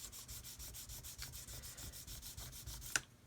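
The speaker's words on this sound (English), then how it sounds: "so we can keep sanding away there until that area disappears" Sandpaper rubs Mr. Surfacer and grey primer on a plastic model kit in quick, even back-and-forth strokes, close up and steady for several seconds before stopping.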